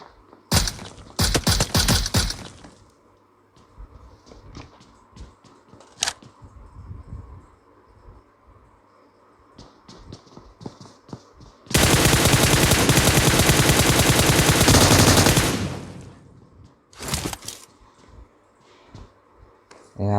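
Gunfire in PUBG Mobile, with several separated shots and short bursts, then a long loud sustained automatic burst of several seconds, followed by a few more scattered shots.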